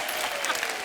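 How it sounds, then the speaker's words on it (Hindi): Studio audience at a comedy show breaks into brief, dense applause, a short continuous burst of many hands clapping. "जोरदार तालियां हो जाए बड़ो"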